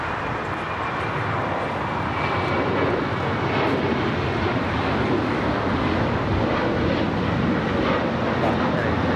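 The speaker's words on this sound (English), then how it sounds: "This is Alaska Airlines 1083 taking off to Seattle on the 737-900ER" An Alaska Airlines Boeing 737-900ER jet takes off at Los Angeles LAX, bound for Seattle: a loud, steady broadband engine roar that holds for the whole stretch, with a faint voice underneath.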